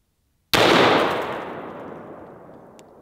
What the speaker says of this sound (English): We'll go ahead and try the 280 grain blue tip one more time on the body.